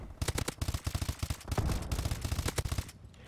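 Rapid bursts of IMR rifle fire in Call of Duty: Advanced Warfare, loud close automatic shots in quick rhythmic volleys with brief pauses between them.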